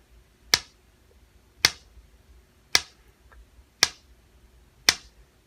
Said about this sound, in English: And the tapping sound is actually part of the treatment.